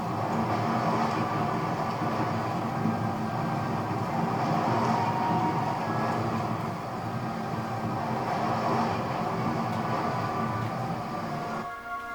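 A steam train locomotive in a PS3 stealth game pulls away along rails on a downhill slope, giving a steady, moderately quiet rumble and clatter that drones on evenly with no voices.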